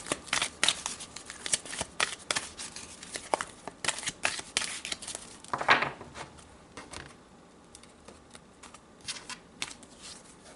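Tarot cards being shuffled by hand before an outcome card is drawn, a steady run of quiet riffling, flicking and sliding card sounds close by for several seconds, then tapering into lighter, sparser handling.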